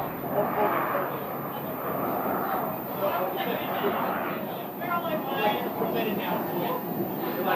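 A Beechcraft King Air turboprop arriving at Scottsdale airport gives a steady, broad engine roar that holds loud and close throughout, with a person talking over it.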